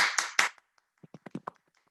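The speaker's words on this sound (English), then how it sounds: "So when we're clapping, unmute yourself, everybody, please, and let's give a clap to everybody." A few scattered handclaps from participants in an online open mic, heard through a video call: a couple of louder claps at the start, then a sparse run of softer, separate claps with gaps of silence between them.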